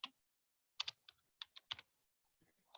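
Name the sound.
typing on a computer keyboard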